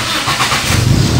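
Car engine cranking and catching after a keyless push-button start system is installed, a short rough rumble that steadies into a low idle, close and loud.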